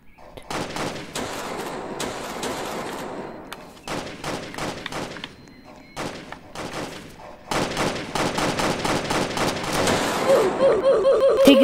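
Bursts of rapid gunfire from a Roblox Jailbreak game, a dense crackle of shots in clustered volleys with brief gaps, growing louder toward the end as a short repeating electronic tone enters.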